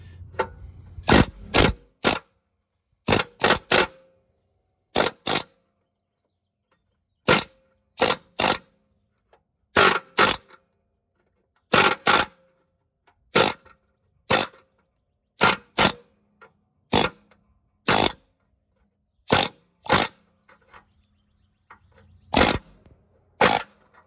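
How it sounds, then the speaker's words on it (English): An air hammer with a flat chisel tip, on a low setting, drives a bushing on a Snapper mower with a Briggs & Stratton engine in sharp, close bursts of rapid hammering separated by silent pauses. "We've got a kind of a flat-ended chisel tip, and I got it on a low setting because I'm not trying to launch this into space."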